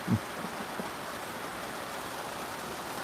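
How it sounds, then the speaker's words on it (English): Heavy rain falls outdoors as a dense, steady wash of noise, loud and continuous, with a brief thump near the start. "Look at this rain."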